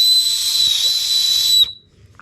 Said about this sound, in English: Yeah, this is definitely a better whistle.